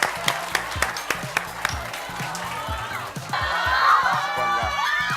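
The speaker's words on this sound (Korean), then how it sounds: "박수 주세요" A quiz audience at a lecture event applauds: a run of sharp, scattered claps over low thumps swells after about three seconds into a denser, louder wash of clapping and cheering from the crowd.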